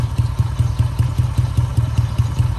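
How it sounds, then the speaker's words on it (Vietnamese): A 1997 Honda CM125 custom motorcycle idles smoothly with a steady, even low thump close by, no voices over it. "Dòng đặc trưng của xe này là tiếng máy nổ cực êm"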